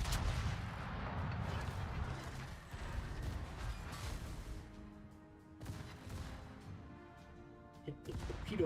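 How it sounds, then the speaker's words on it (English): Heavy 16-inch naval guns boom repeatedly in a World of Warships battle, dense rumbling blasts and crashing impacts filling the mix, with louder sharp shots near the end. "The 16-inch guns are tearing us up though."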